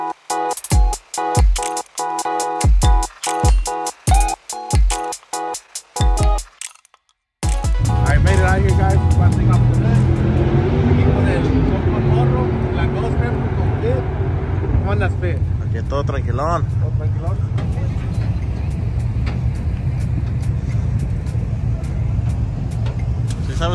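A twin-turbo truck at the Truck Nationals event is heard as a series of sharp rhythmic bangs, then a steady, loud, broad engine roar. People talk throughout.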